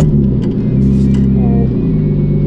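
A Nissan Skyline R34 with a titanium exhaust idles and pulls away at low revs, a loud, deep, steady rumble close by, with a person speaking briefly over it.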